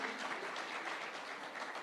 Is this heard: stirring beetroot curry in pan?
no